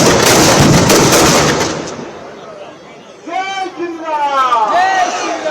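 Dense crackling firecrackers burst loudly and continuously for the first two seconds at a Ravana effigy burning, then fade as a voice speaks over the dwindling noise.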